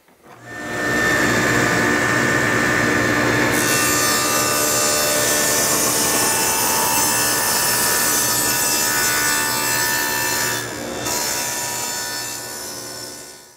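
A table saw rips through wood for utility cabinet carcass panels, a loud continuous whine of blade in timber running nearly the whole stretch, shifting in pitch partway through and easing off as the cut ends.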